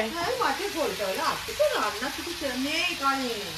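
Fish fries in a pan with a steady close sizzle and spatter. A voice talks over the frying.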